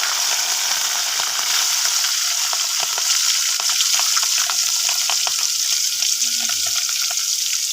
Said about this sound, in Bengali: আমি এখন প্রথমে চিংড়ি মাছগুলো দিয়ে ফ্রাই করে নেবো